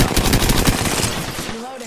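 Rapid automatic gunfire in Apex Legends, loud and dense bursts for over a second before trailing off, with a short voice line at the end.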